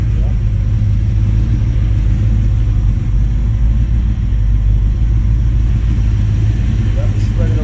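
A 1955 Chevrolet Two-Ten with a 427 big-block engine idles with a deep, steady low rumble, loud and close, holding an even throb without revving.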